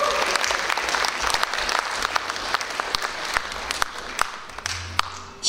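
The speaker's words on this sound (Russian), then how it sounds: "Мария Васильева, под ваши аплодисменты." An audience applauds a speaker at a stage event with dense, sustained clapping from many hands, and some louder individual claps stand out near the end.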